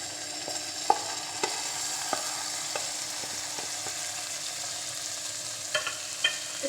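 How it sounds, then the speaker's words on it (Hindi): Finely chopped tomato and green chili frying with onions in a pan, a steady sizzle with scattered sharp crackles and stirring clicks close by. "अब इसके अंदर बारीक कटा हुआ टमाटर और हरी मिर्च ऐड कर लेनी है"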